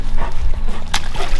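Cesar the dog gives short whimpers and a few barks close by, with rustling and water-like movement underneath in a forest outing.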